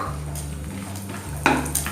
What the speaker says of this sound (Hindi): उसी का ये घी बचा हुआ है, इसमें मैं ये ड्राई फ्रूट्स है कटे हुए ये डाल रही हूँ।